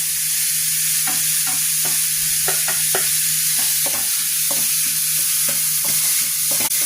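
Carrot and beetroot sauté in a pan with ginger, green chilli and onion, a steady close hiss of sizzling broken by scattered light scrapes and taps of stirring.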